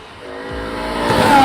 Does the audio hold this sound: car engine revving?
yes